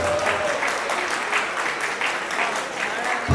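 Guests at an engagement ceremony applaud after a performance, a steady burst of clapping from a gathered crowd that fills the whole moment, with a few voices faintly mixed in.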